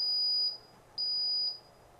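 A high electronic beep tone from a Bosch GLL2-80 line laser's out-of-level alarm, sounding in two long pulses separated by a short pause, steady and fairly clear over faint background hum.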